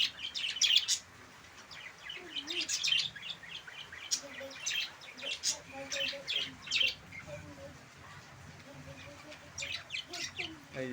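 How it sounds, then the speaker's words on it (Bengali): Pet cockatiels and budgerigars chirp close by in bursts of sharp, high tweets and short squawks, with a few quieter calls between and low voices murmuring in the background. "এই যে আমার সব পাখি এক জায়গায় থাকে, ককটেল, বাজিগার"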